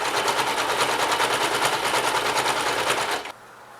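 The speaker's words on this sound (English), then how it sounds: "place it along the lining, and then we're going to stitch right there" Sewing machine stitching a quilted knitting project bag along its lining, a steady fast whirring rattle running loud and close for about three seconds before cutting off abruptly.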